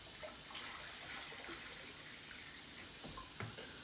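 Fresh water is poured into a venomous snake's enclosure indoors, a steady faint trickle and splash heard as a continuous hiss with a few small drips near the end.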